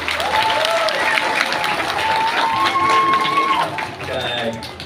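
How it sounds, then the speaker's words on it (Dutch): Audience applause at a fan day Q&A show at Duinrell, a steady loud clapping crowd with voices talking over it, tapering off near the end. "En een groot applaus voor de volgende."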